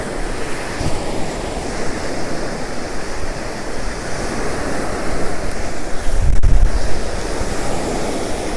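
Waves on the Sea of Galilee at sunrise under a light easterly wind, a continuous loud surf wash with rolling swells that builds to a heavier break near the end, no voices.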